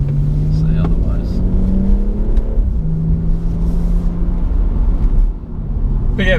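BMW M240i engine driving in sport mode, a steady low drone rising and falling in pitch as it pulls through the gears, loud and continuous with a brief dip near the end.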